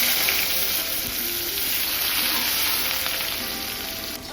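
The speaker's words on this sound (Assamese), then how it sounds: "এয়া মাছ ভাজি থোৱা তেলখিনিতে মই পিঁয়াজখিনি দি দিছোঁ" Onions frying in the oil left over from frying fish, a loud, steady, close hiss of sizzling that stays even for the whole stretch.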